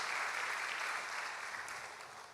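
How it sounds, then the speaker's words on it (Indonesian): A church congregation claps steadily, a dense wash of hands that holds evenly and slowly fades a little toward the end, with no voices on top. "Bisa beri tepuk tangan yang paling meriah buat Tuhan kita Yesus."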